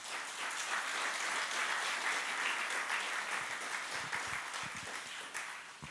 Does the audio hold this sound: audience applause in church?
yes